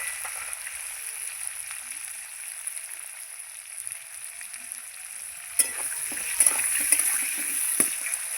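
Potatoes fry in a pan with a steady soft sizzle, then a few sharp crackles and louder bursts as they are stirred near the end.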